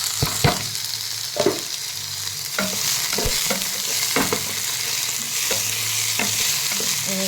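Tomatoes go into a pan of frying potatoes and onions, raising a loud, continuous sizzle broken by repeated clinks and scrapes of a stirring spoon, near and busy, without talk.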